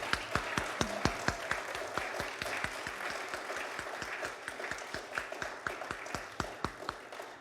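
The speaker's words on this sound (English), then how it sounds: "So let's give him one more round of applause" Audience applause after an hour-long benefit concert of difficult music, a dense steady wash of clapping across the whole stretch with sharp individual claps standing out near the front.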